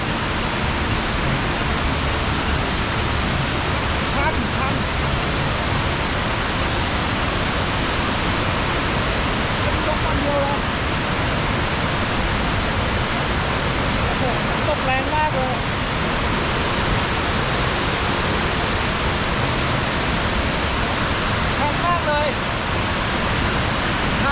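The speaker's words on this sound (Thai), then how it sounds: "สิ่งที่เรามาคือการสำรวจน้ำตกนะครับ" A large waterfall in a Laotian rainforest roars in a steady, loud, dense rush of crashing water that fills the whole span without a break, drowning out any other sound.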